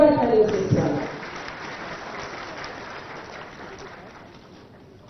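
An audience at a government appointment-letter ceremony with the chief minister present claps for a minister, applause loud at the start and fading over several seconds into a low room hum.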